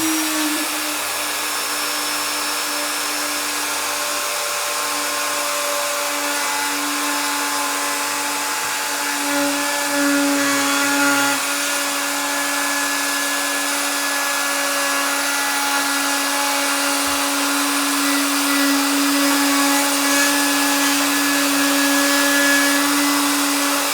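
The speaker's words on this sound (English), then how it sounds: "Okay, now let's route the slot." A woodworking router cuts a T-slot into an existing groove in wood, whining loudly and continuously at a steady pitch for the whole stretch with no talking.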